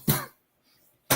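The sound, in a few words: cough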